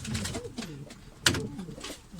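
Batarlı Adana pigeons in a breeder's loft give soft, close, repeated throaty coos in quick succession, with one sharp click partway through.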